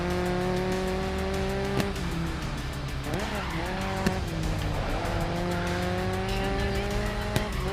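Race car braking hard in the racing game GRID Legends: a sustained engine drone with a tire squeal swelling around the middle, a few sharp clicks, no voices.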